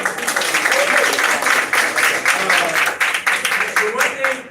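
Applause from a community crowd at a live Miami Gardens meeting, a steady dense patter of many hands clapping across the whole stretch, loud and close, with voices mixed in.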